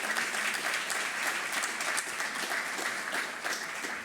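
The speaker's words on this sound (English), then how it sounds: "give a round of applause to all of you" Steady applause from an audience at a behavioral health workforce symposium, dense and continuous clapping filling the room throughout without any voices over it.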